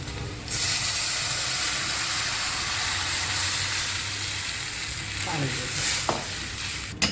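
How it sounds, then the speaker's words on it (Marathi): A kadhi mixture made with plain, not-too-sour yogurt is poured onto onions fried until reddish-brown, setting off a loud, steady sizzle and hiss right after a short quiet start, with a few faint clinks near the end. "आता त्याच्यामध्ये हे मिश्रण तयार केलेलं आहे कढीचे ते मी सोडते आहे"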